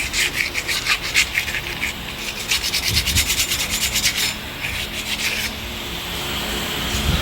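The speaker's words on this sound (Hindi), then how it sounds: "डिस्क इसकी खुल गई है, तो इसके बाद इसको साफ़ करना है अच्छी तरह। और ये इधर है रेगमाल है" Sandpaper rubbing over the surface of a removed front brake disc from a Mercedes-AMG G63, a steady close scraping with quick repeated back-and-forth strokes, carrying on alone without any talk.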